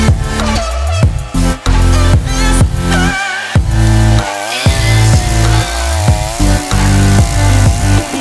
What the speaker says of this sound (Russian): Теперь при помощи пилы режем бревно как тортик, то есть пилим крест-накрест, звездочку.